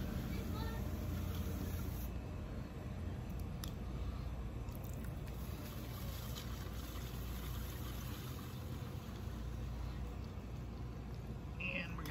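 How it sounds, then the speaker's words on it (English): A pottery wheel spins continuously as a wide, flat clay bowl is thrown, producing a steady motor drone under wet squishing and rubbing of hands on clay, with a faint high whine throughout. "I'll alternate the speed of the wheel because it helps the clay to snap into place sometimes"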